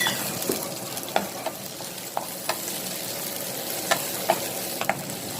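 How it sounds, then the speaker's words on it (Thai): Chili and garlic stir-fried in about two tablespoons of hot oil make a continuous close sizzle, broken by sharp clicks of a utensil scraping the pan at irregular intervals. "ก็ใส่พริกกับกระเทียมลงไปผัดเลยค่ะ"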